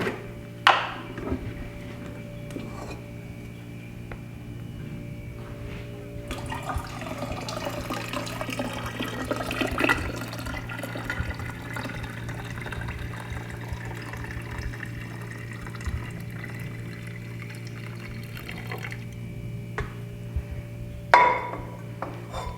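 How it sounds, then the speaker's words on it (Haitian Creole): Prepared Iaso tea is poured into a gallon jug of water, a continuous trickling and splashing stream that runs for around twenty seconds, with a few sharp knocks near the start and the end. "On va aller vider dans le galon de l'eau."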